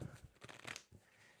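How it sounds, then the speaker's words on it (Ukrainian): A brief, close riffle of cards being shuffled, a couple of quick papery bursts, quiet and without speech. "Перемішаємо ще карти звичайною класичною тасовкою."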